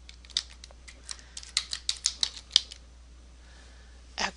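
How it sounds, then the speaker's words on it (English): Short bursts of clicky keystrokes on a computer keyboard while a caption is typed, close and crisp, with a quick cluster in the middle, a pause, then a final couple of taps. "let's type in our caption"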